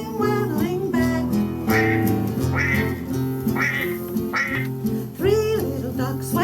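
Duck quacks in a children's song about mother duck and little ducks, with several short, nasal quacking bursts sung over bouncy backing music, where a voice may be imitating the quacks.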